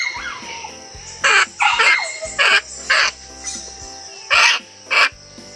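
Harsh, loud caws burst out one after another in short, separated calls from a nearby bird, with quiet gaps between them.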